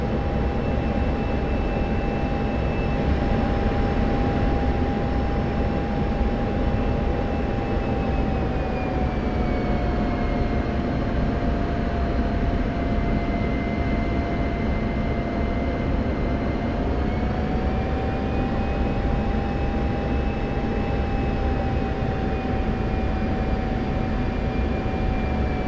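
An F-16 fighter jet in flight over Syria makes a loud, unbroken engine roar heard from inside, with a steady whine that drifts slightly in pitch and no voices.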